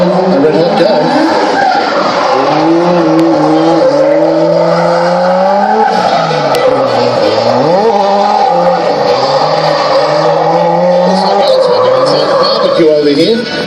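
Drift car at an Archerfield drifting competition, engine revving hard with long tire squeals and skids rising and falling throughout, loud and continuous, while a commentator talks over it.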